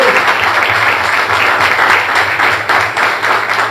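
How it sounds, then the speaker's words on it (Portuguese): Congregation applauding in a church gathering, a steady dense wash of clapping that stays loud and even throughout with no voices over it. "vamos aplaudir para o Senhor pela presença também"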